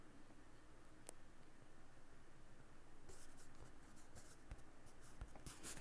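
Chalk or marker writing on a classroom board during a class 10 maths lesson: faint scratchy strokes, then a cluster of sharper taps and scrapes, quiet and close.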